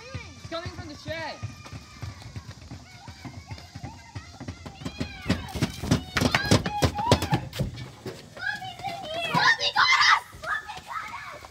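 People screaming inside a shed: high-pitched, excited voices yelling and shrieking, with quick running footsteps that build to louder screams near the end.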